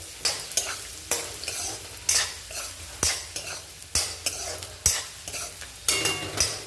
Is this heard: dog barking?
no